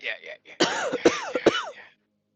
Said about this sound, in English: Are you fucking coughing?